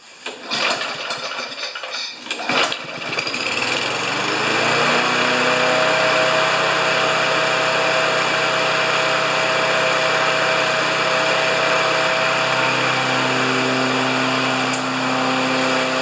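A Craftsman lawn mower with a Kohler engine cranks briefly with a few rough bursts, then catches and settles into a loud, steady running drone that holds to the end.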